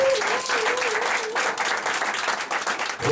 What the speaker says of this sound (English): Somebody celebrate Jesus with a clap.